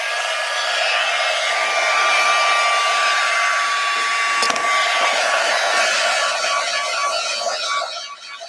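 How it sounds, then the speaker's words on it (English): A heat gun blows steadily and loudly throughout, a continuous broadband roar with a faint tonal whine, briefly interrupted by a sharp click midway and easing slightly at the end. "here's my heat gun"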